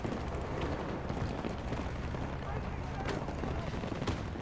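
Gunfire and a grenade launcher in the video game Battlefield 2042 form a dense, steady barrage of shots and blasts that runs the whole time, with talk over the top.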